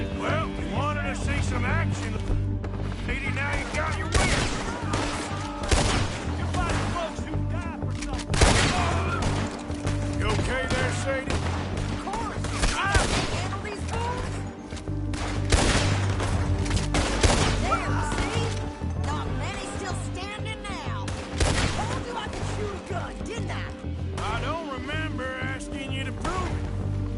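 Gunfire in Red Dead Redemption 2 crackles in rapid, overlapping volleys of shots over a dense mix of game music and ambience. Voices talk throughout.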